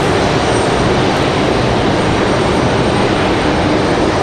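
An American Airlines airliner taxis at RDU airport, its engines producing a loud, steady, broadband roar that holds constant throughout.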